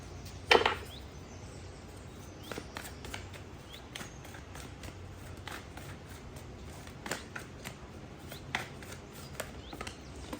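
A deck of cards is shuffled in quiet, scattered bursts of soft riffling and light clicks, with one sharper snap near the start as a card pops free.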